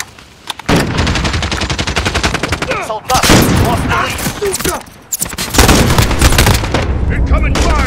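Rapid automatic gunfire in Call of Duty: Modern Warfare, loud and close, coming in sustained bursts broken by short pauses, with soldiers' voices shouting underneath.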